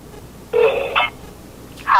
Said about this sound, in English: So they're not answering their phone